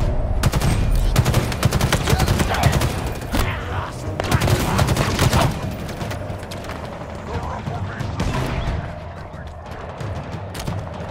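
Rapid gunfire shooting at power regulators in Halo Infinite co-op, loud bursts and clattering mechanical clanks through the first half, then thinning out, with voices talking over it.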